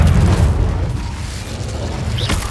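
Fire spell cast in the Hogwarts Legacy video game, a deep booming burst with rumbling low end that swells at the start and fades under a steady roar, ending with a brief rising whoosh.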